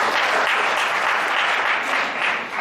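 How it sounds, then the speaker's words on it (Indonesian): Church congregation applauding during a worship service, a steady dense wash of clapping from many hands that holds for a few seconds without talk. "Berikan tepuk tangan buat Tuhan."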